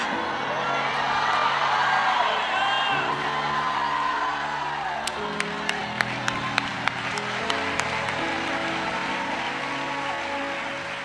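A church congregation at a Portuguese-language service shouts and cheers together in a loud, sustained crowd roar, with a burst of sharp claps and whoops near the middle before the noise settles.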